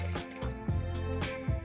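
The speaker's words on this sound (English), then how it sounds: "I'm going to add 2 cups of water to this" Water poured into a pot of toor, masoor and chana dal, heard as a few close glugging splashes and pitched pouring gurgles in short bursts, with no talking.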